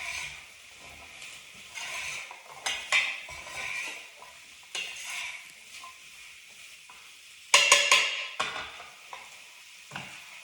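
Fresh garlic and potatoes are stirred in a hot pot, with sizzling and a metal spoon scraping and clinking against the sides in uneven strokes, a few sharper clatters partway through and no voices.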